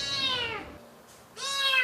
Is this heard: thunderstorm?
no